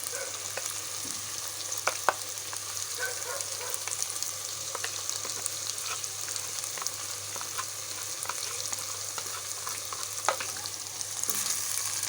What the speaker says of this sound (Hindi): और इसको हम अच्छी तरह भून लेंगे।